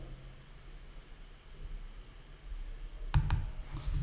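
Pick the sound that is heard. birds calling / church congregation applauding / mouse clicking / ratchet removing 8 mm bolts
mouse clicking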